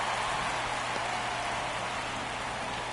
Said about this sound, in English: I think the rain has picked up a bit here in Los Angeles.